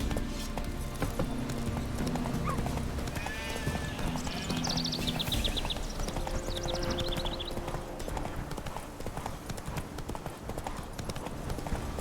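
Horse hooves clip-clop at a steady trotting rhythm while riding along a road in a video game, with a whinny and background game music.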